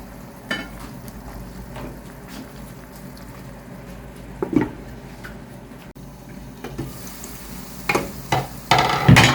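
Brinjal (eggplant) frying on a tawa, a soft steady sizzle with occasional stirring scrapes and clinks of utensil against the pan, growing louder and busier toward the end.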